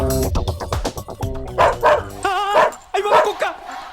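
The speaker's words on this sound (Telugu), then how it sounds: "కుక్క ఉంది అక్కడ." A dog in a Telugu comedy film scene lets out a quick run of yelping barks and whimpers, close and loud, with voices heard around it.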